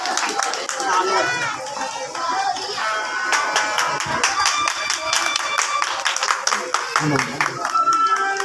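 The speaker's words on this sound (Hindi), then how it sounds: "जोरदार तालियों के साथ वेलकम करते हैं स्टेज पर" Clapping from a crowd welcoming a speaker to the stage at a church gathering fills the room alongside music and lively voices, steady and loud throughout.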